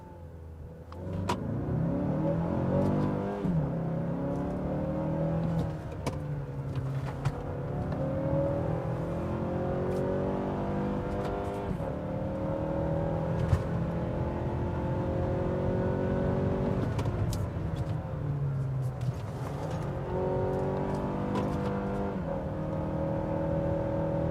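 A 2017 Mazda CX-5 SUV in manual sport mode with traction control off pulls hard through the gears, its engine note rising and dropping steadily between shifts, continuous and close, with no talk over it.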